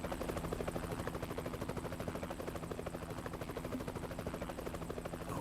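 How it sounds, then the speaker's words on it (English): In American Truck Simulator, a tour helicopter over the Grand Canyon thuds with rapid, even rotor chop at low volume, a steady pulsing drone from some distance. "You've got like a helicopter giving the Grand Canyon tours."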